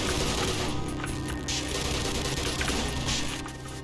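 Sustained automatic fire from a mounted turret in Black Mesa, a dense, loud, continuous clatter with a few brief lulls, filling the whole stretch without speech.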